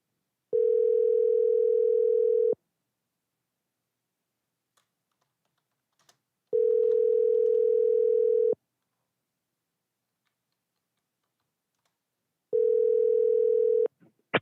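Telephone ringback tone heard while calling about a laundromat for sale, three long steady buzzing tones each about two seconds long, separated by roughly four-second silences, clear and close, with no talk.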